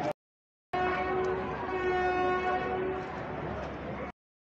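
The Saptagiri Express, train 16057, sounds a long, loud, steady horn as it leaves Tiruttani railway station after a two-minute halt, preceded by a short click and then silence.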